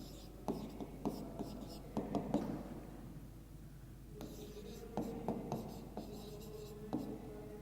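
Pen strokes on paper while a math problem on area is written out, quick scratchy bursts in short clusters with a pause midway, close and quiet, with soft speech underneath.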